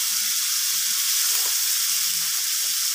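Whole shrimp sizzling and frying in butter in a pan for buttered shrimp, a steady dense hiss throughout with faint crackles, close and unbroken, no voices.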